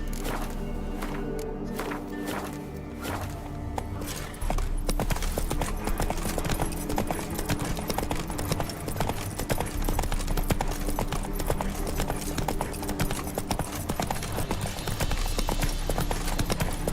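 Roach, Geralt's horse in The Witcher 3, moves with steady hoofbeats that pick up into a loud, continuous gallop, the drumming hooves blending with game music and ambience.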